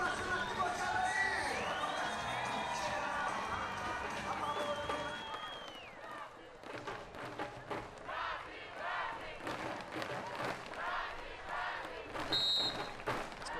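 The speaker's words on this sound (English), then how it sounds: "Crowd going again." Crowd cheering and shouting at a women's beach volleyball semi-final in Fortaleza, a loud, sustained roar of many voices that surges and swells, with a commentator talking over it.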